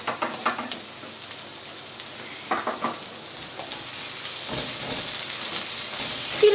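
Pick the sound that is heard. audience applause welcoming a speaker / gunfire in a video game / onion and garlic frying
onion and garlic frying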